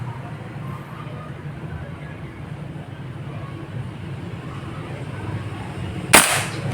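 A single sharp crack from a Yumaja Sempiternal air rifle fired during target grouping, heard near the end after a steady low background hum.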